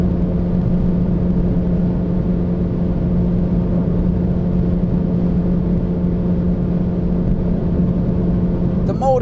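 Ford Fiesta ST pulling hard on a German Autobahn, a steady loud engine drone with continuous road and wind rumble throughout, and a brief sharper noise near the end.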